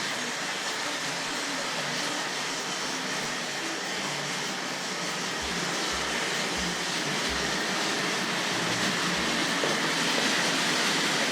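A Tri-ang Hornby Dublo model train runs along an elevated track section, giving a steady broadband rattle and hum with a few low thumps near the end, continuous and fairly close with no voices.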